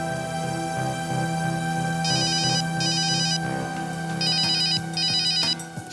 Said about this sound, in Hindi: शेखर का फोन।